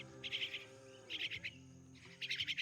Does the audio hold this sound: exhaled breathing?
no